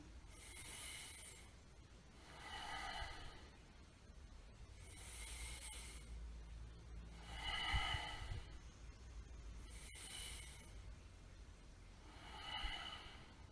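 Slow, deep breaths during a yoga session, each airy rush repeating roughly every two to three seconds, close and fairly soft, with no talking.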